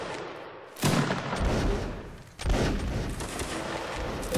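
A musket volley in a Napoleonic Wars line battle game rolls out in two loud, crackling bursts, each a ragged cluster of many shots, the second about a second and a half after the first.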